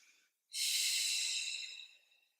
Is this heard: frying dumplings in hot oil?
no